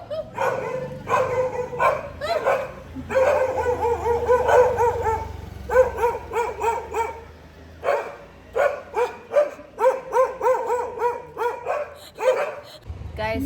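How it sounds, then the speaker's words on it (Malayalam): Several dogs bark and yip in bursts, close and loud, some whimpering between barks, with voices talking over and between them throughout. "നമ്മൾ കാണാൻ പോകുന്നത് ആൻമേരിയും പട്ടികളും തമ്മിലുള്ള സംഭാഷണമാണ്."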